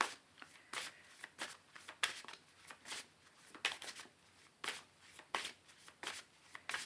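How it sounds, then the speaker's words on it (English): Tarot cards being shuffled by hand at close range, a quick run of crisp riffling bursts repeating in an uneven rhythm, quiet and alone. "I'm shuffling now on camera"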